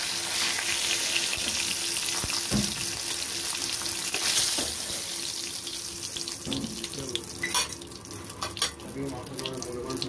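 Boal fish frying in mustard oil in a covered pan makes a continuous loud hiss, broken by occasional clanks and clatter of kitchen utensils.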